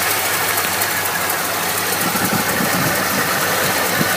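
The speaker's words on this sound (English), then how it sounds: "Idling really rough." A 1986 Chevy 4x4 crew cab engine, due for a tune-up and fitted with an aluminum water pump, idles roughly up close with a loud, steady, uneven chugging rumble and no talking.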